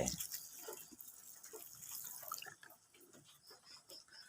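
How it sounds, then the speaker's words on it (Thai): Water poured onto steamed sticky rice, a brief splashing pour at the start fading into quiet trickles and drips, faint and close. "หลัง จากที่ข้าวสุกนะครับ แล้วก็เท น้ำใส่ลงไป"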